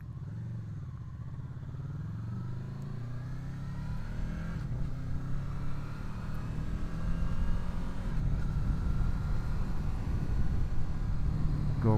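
A Honda VFR800 motorcycle rides along at a steady pace, its engine a continuous low drone with a rising rumble as it builds speed. Wind noise runs underneath, and no one speaks.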